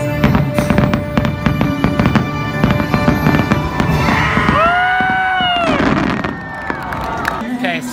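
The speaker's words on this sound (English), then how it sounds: "this was the 50th anniversary fireworks show" A 50th anniversary fireworks show bursts with repeated booms and crackles, loud and dense, with whistling rising streaks near the end and a crowd cheering.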